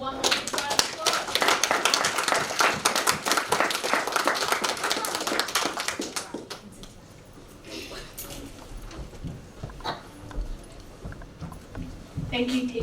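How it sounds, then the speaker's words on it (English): Children and teachers at a school assembly clap in a loud burst of applause that dies down after about six seconds, leaving scattered taps, murmured talk and room noise. "can we give them all one more round of applause?"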